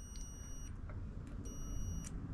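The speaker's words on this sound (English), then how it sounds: "This is when we use beeps to find out which end of the wire goes where." Two short, high electronic beeps about a second apart, quiet against a steady low hum.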